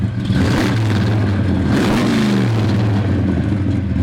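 A big-block V8 in a 1956 Chevy 210 two-door hardtop restomod starts and revs through a full exhaust, loud and close with a deep, rumbling, rising-and-falling drone and no talk.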